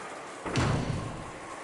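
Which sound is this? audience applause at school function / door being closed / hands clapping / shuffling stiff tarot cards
door being closed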